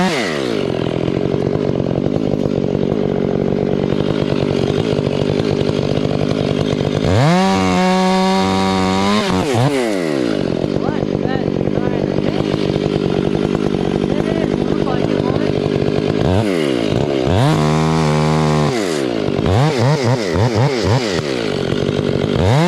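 A chainsaw cuts into a huge leaning cottonwood tree, a loud, close engine drone throughout, with two rising revving bursts where the saw bites into the trunk under heavier load.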